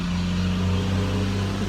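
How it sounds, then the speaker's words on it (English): Steady drone of a work truck idling down the road while picking up roadside debris, a constant low engine hum with no breaks. "We have a truck down the road doing some work"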